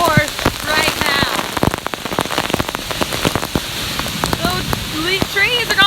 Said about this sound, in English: It is literally a torrential downpour right now.